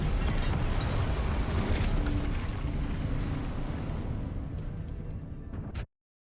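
Confringo fire spell erupting in Hogwarts Legacy, a loud sustained roaring blast with crackling debris that rumbles steadily for several seconds before cutting off abruptly, with a brief bright clatter near the end.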